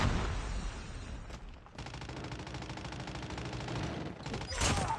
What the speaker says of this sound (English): Hostile sentry gun in your AO.